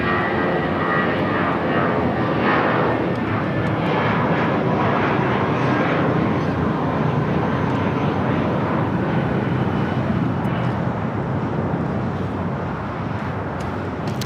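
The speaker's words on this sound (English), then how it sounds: "taxi lights now on the Asiana A380 Super" Asiana Airbus A380 taxiing at Los Angeles International Airport, a steady loud broadband engine roar sustained throughout with no letup, close by and alone without voices.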